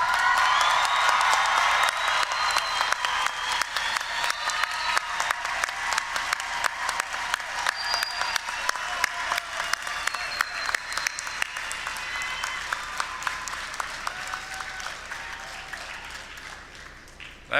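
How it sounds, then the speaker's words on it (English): Standing applause for graduates at a high school graduation ceremony, a long dense wave of clapping with scattered cheers and whoops, gradually tapering off toward the end. "let's stand up and let's give them an enthusiastic appreciation applause"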